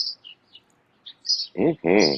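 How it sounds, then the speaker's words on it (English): Small birds chirp in short, bright bursts near a window in the early morning, a few scattered tweets followed by two louder, fuller calls close by at the end. "You hear the birds chirping."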